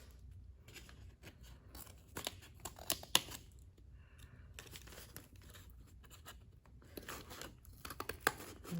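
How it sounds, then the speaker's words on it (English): Scissors trimming small paper pieces for a sculpture, a run of quiet, close snips and crinkling paper rustles with short pauses between cuts, no speech. "So I'm just doing this with a pair of scissors."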